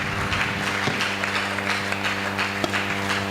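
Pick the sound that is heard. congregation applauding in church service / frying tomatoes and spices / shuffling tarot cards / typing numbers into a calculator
congregation applauding in church service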